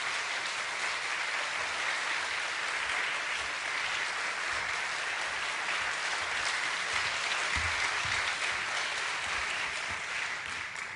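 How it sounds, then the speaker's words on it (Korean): A church congregation applauds to welcome a pastor to the pulpit, a dense and steady wash of clapping that fills the room and holds level throughout without any speech. "박수로 모시겠습니다."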